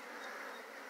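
Honeybees buzz in a dense, steady drone as a hive is opened during a bee removal, a close, continuous hum with no voices.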